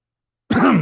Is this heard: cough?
yes